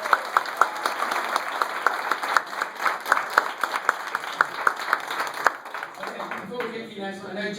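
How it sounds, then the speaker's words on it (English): An audience at a Young Marketers competition gives the jury a round of applause, a steady patter of crisp claps from a fairly distant crowd that thins toward the end, with a voice starting up over it. "So give them a round of applause."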